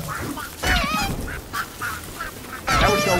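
Goose-like bird honking in the Don't Starve Together video game, several loud nasal honks in quick succession, close and prominent with no speech over them.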